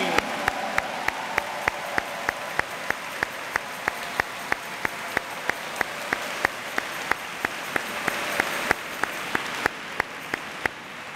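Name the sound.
audience applause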